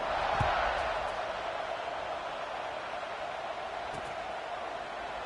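A stadium crowd roars steadily in the College Football 26 video game, with Arkansas hosting LSU during a kickoff; the distant, continuous cheering is broken by a couple of faint thuds.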